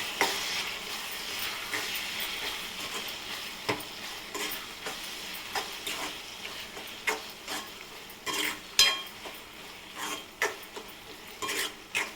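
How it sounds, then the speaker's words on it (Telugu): A village-style curry is stirred in a pan after a spoonful of garam masala goes in. It gives a soft, steady sizzle with scattered light scrapes and taps of a spoon against the pan, fairly quiet and close. "ఇలా వేసిన తర్వాత బాగా కలుపుకోవాలండి."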